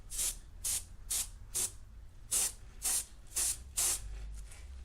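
An airbrush sprays paint onto a test piece in eight short, evenly spaced bursts of hissing air, close and fairly loud, with a low hum between bursts and no talking.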